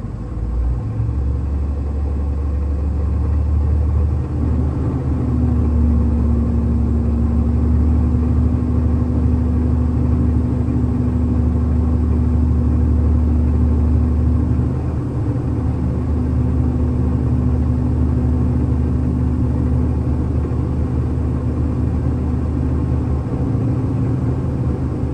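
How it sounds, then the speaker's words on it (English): A truck's diesel engine running under light throttle to build air brake pressure toward governor cutoff, a steady loud low rumble with a sustained droning tone that holds for about ten seconds, dips, then resumes. "I'm gonna give the motor a little bit of gas here to get these needles to climb to the governor cutoff"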